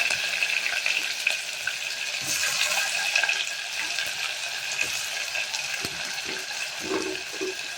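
Steady sizzling and crackling of onions frying in hot oil in a pan, with occasional stirring scrapes and faint clinks throughout.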